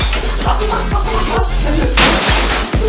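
A small television is smashed, its glass shattering in a loud burst near the two-second mark, amid a thumping rhythmic backing with bass hits throughout the three seconds.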